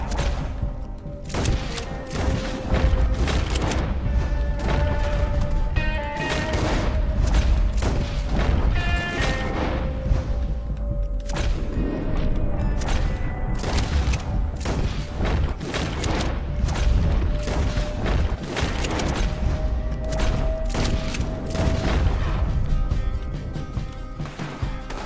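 Gunfire and explosions in the video game Red Dead Redemption 2: rapid bursts of shots and heavy booms crack repeatedly over a sustained musical score throughout.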